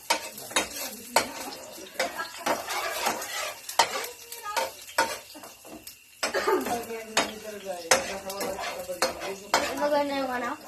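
A utensil stirs food in an oily, sizzling pan, with repeated sharp metallic scrapes and clanks over the frying hiss, and voices talk between strokes.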